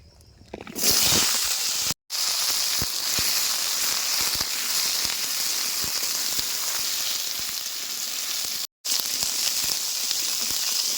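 Washed potatoes and cauliflower drop into hot oil already frying cumin and dried chilies, setting off a loud, steady sizzle and hiss that holds throughout, broken by two brief gaps.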